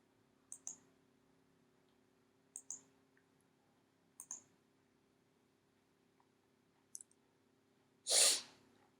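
Computer mouse clicking during an income tax return filing on a tax website, heard as about four faint, sharp double clicks spaced roughly two seconds apart, alone over a low steady hum, followed by a louder brief burst near the end.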